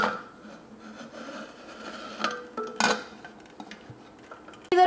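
A pressure cooker lid set down and closed while baking a sponge cake, heard as close metallic scrapes, clinks and a sharp clack near the end, with quiet rubbing between.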